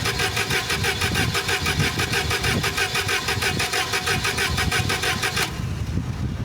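A Toyota forklift engine cranks over and over without catching, a loud, close, rapid rhythmic starter churn that runs steadily for several seconds, then cuts off abruptly into a quiet hum.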